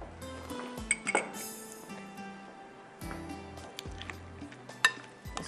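Chicken soup ingredients are mixed in a bowl, with light clinks of utensil against dish and soft stirring scrapes, quiet and close, with no talking.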